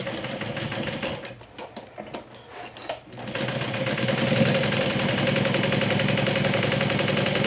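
A sewing machine stitches a Sallie Tomato SHAW backpack, running in a fast, steady mechanical chatter after a short pause with handling noises.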